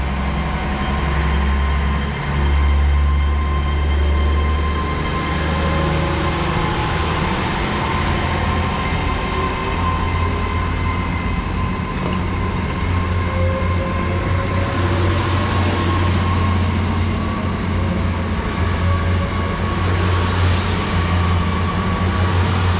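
Great Western Railway train 802112 departing a South Wales platform on the 11:57 service from Swansea to London Paddington, a loud steady rumble of wheels and traction with a rising whine, continuous throughout with no talk.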